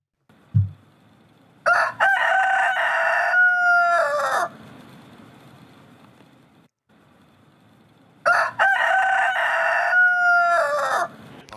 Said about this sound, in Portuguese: Quantas vezes o galo cantou?